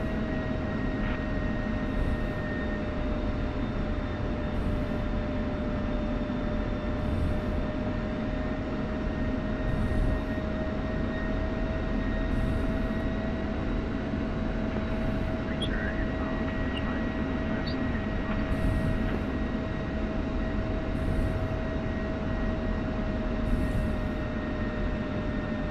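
An F-16 jet taxiing in the DCS flight simulator gives a constant engine hum and whine with steady tones, a continuous drone without talk and only faint clicks.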